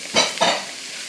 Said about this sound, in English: Now we're just going to cook this over high heat